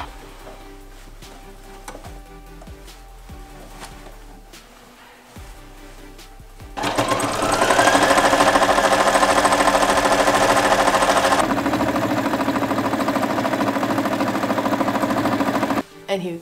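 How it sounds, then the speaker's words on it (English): A sewing machine stitches binding onto a quilt made from leftover fabric strips, starting after a few scattered clicks and running loud and steady for about nine seconds before stopping abruptly. "I'm going to machine sew it on both sides."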